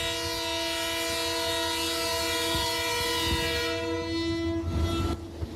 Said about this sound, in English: The rumble of wheels on steel and the deep blast of its horn evokes memories of Ghana's railway heyday in the 1970s and 80s.